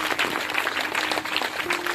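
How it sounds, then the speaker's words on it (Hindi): A church congregation claps for the Lord during worship, with dense, steady applause filling the whole stretch at moderate loudness and no clear talking over it. "जोर से तालियां बजाएंगे प्रभु के लिए,"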